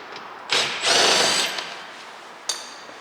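A power drill driving screws out of a GMC Yukon door panel, with one sustained whirring burst, then a brief spin-up, close and loud.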